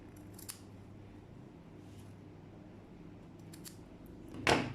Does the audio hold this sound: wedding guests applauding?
no